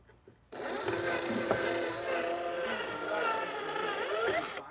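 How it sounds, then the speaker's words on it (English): A power drill re-drills a hardware hole in a wooden dresser, whirring steadily for several seconds, a continuous buzzing grind with slight pitch wobble, close by, starting abruptly after a brief quiet moment. "So I'm gonna re-drill the hole."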